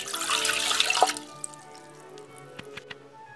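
Water runs and splashes into a measuring cup for about a second, then stops, leaving faint drips and small clinks in a quiet room, while preparing French bread in a bread maker.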